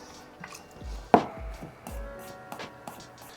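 Knife slicing garlic on a cutting board gives a handful of soft, irregular taps and chops, one sharper knock standing out, fairly close and quiet with no talk.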